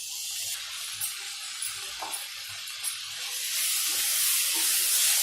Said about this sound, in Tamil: அதுக்கப்புறம் நம்ம கட் பண்ணி வச்சிருக்கிற தக்காளியை இதில் சேர்க்குறோம்.